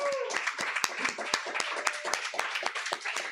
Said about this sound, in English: Can I please have one more round of applause for our readers?